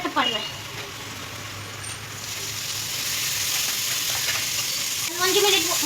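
Chicken sukka masala with tomato frying in a pan in a Mangalorean-style home kitchen, a steady sizzle throughout with brief stirring clatter and a voice speaking at moments.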